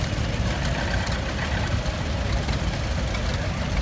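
A 1956 John Deere 420 row crop tractor at a two-cylinder show idles with a dense, steady low chugging that stays even and close throughout.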